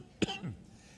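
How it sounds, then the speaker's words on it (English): A single sharp cough, loud and close, with a short rough tail like throat clearing, from a person who has a cold; no other sound follows. "it's always embarrassing when you're talking about transmission and you can't stop coughing"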